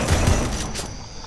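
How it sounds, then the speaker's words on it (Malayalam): Firecrackers burst in a quick noisy cluster, loud and close, with sharp cracks over dense crackling that fades within about a second. "പടക്കം"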